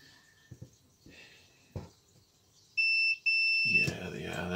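A continuity tester beeps twice in a steady high tone while checking the switch wires of a Hitachi DH 26 240V hammer drill, following some light handling noises and soft voices, then giving way to rustling.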